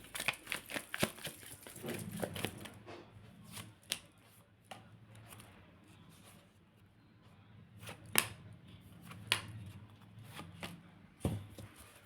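A deck of cards is riffled and shuffled in a quiet room, with bursts of crisp flapping and snapping clicks at the start and again later, separated by softer handling rustles.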